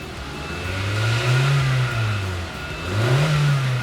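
A Hyundai Avante AD car engine revs up twice, rising in pitch and settling back down, loud and close with a steady rumbling undertone.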